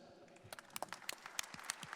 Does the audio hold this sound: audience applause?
yes